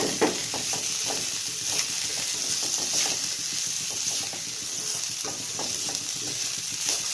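Beetroot poriyal with grated coconut is sautéed in a pan: a steady close sizzle punctuated by rhythmic spatula scrapes and stirring strokes, with no talking.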